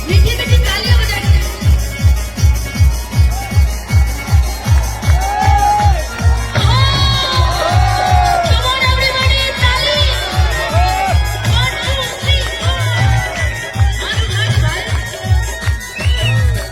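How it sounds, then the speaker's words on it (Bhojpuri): An audience at a stage devotional song performance claps in a steady, even rhythm, loud and close, with cheers and crowd voices rising over the beat midway. "मीठी मीठी तालियां बजाइए।"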